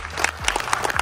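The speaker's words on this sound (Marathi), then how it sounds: "एकदा जोरदार टाळ्या सगळ्यात आधी आपल्या मायरासाठी व्हायला पाहिजे" Audience clapping at a special screening of the Marathi film Naach Ga Ghuma for family and friends, a short burst of dense applause with a little murmur underneath.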